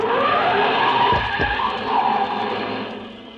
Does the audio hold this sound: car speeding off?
yes